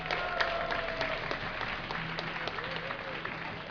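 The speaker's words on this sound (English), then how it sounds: "give a cheer for Mana!" Applause and scattered cheers from a live StarCraft II tournament crowd at DreamHack 2010, a steady, moderately loud wash of clapping from a large room with a few vocal peaks.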